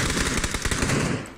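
Rapid automatic gunfire in the battle royale game PUBG, a dense, loud burst of close shots rattling off in quick succession for just over a second.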